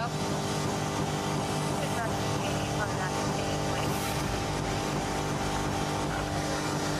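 A car engine idles steadily during a police traffic stop, a constant motor hum beneath officers shouting commands.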